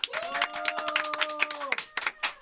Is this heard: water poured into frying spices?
no